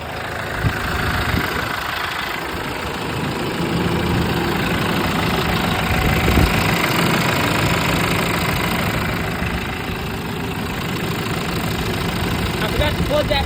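Workmaster 105 tractor diesel engine idling after an oil change, a steady rumbling chug with a faint knock, fairly close and continuous, while a person talks over it.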